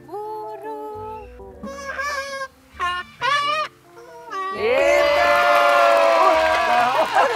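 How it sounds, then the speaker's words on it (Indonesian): Cockatoos at a zoo give loud, harsh screeching calls in several separate bursts, then one long sustained raucous screech. Nearby people are heard briefly between the bursts. "Kakatua Alba juga ada di sini semuanya"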